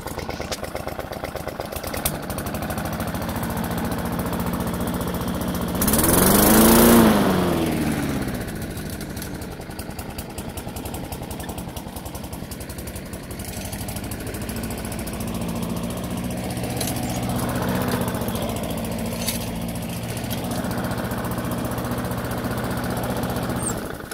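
A variable-speed lawn mower engine runs at max speed, a loud, steady droning roar with a brief surge in pitch and volume early on, alone with no talk.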